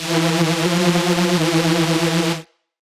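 A bright, buzzy sawtooth synth tone holds a steady low note, dry and loud, then cuts off abruptly near the end.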